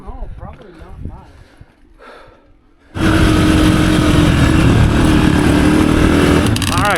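Dirt bike engine roaring loud and close on a rocky mountain trail, cutting in abruptly after quieter moments of talk and staying steady and raspy to the end.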